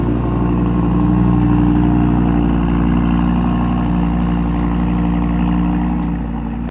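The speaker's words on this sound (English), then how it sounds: "I went to see an Audi R8 to remind myself of the sound of an engine" An Audi R8 engine runs at a steady, rich, throaty idle with strong low harmonics. It is close and loud with no talking over it, and the sound cuts off abruptly at the end.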